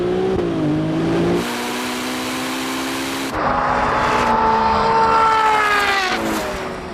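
A Ferrari 296 GTB accelerates hard in a runway drag race, its engine note climbing steeply through several gears with abrupt shift breaks, loud and close.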